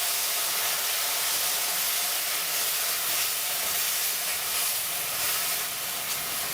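Green chillies fry in hot oil for a chilli curry, making a loud, continuous hissing sizzle that stays even from start to finish with no talking.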